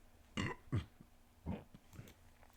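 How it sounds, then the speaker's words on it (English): A person burps several times in quick succession: four or five short, close bursts, with the first two the loudest and the later ones softer. "We're gonna burp."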